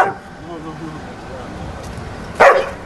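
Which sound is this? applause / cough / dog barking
dog barking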